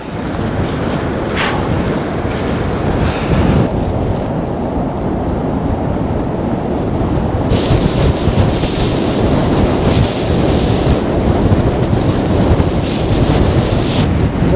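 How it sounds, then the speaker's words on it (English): Strong wind buffets the microphone on the sandy sea shore at Aberlady Bay, with waves washing in behind it as a steady loud roar with rising gusts. "That wind cuts right to the bone."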